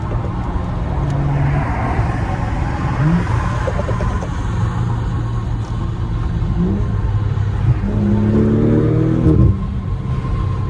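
BMW G30 540i with crash damage revs hard near a car meet, loud engine roar climbing and falling through several sharp throttle blips over a steady idle rumble.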